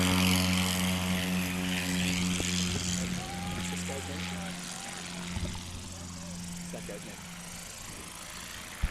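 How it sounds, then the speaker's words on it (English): A Husky propeller plane takes off at a STOL competition in Brainerd, Minnesota, its engine a loud steady drone that slowly fades as it climbs away, with a crowd and announcer audible around it. "Another impressive plane,"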